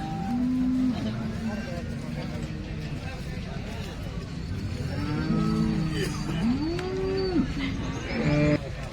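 Cattle at the Sangola cow market in Maharashtra, with several cows mooing loudly and nearby in drawn-out calls amid constant crowd chatter and market bustle.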